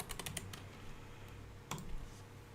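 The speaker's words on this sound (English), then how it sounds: "I'm really typing really fast" Rapid clicking keystrokes on a computer keyboard come in a quick burst at first, then sparse taps and another flurry, fairly close and alone without speech.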